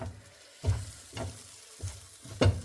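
Thick masala for cashew curry frying in a pan, with four soft, rhythmic thuds and sizzles as the paste is pushed and turned about every half second, close and moderate in level, no voices.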